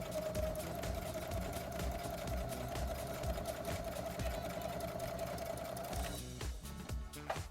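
A Brother CS7000i sewing machine runs a straight stitch while sewing a cowboy hat, a fast steady mechanical whirr with rapid needle ticking that stops near the end, followed by a few handling clatters.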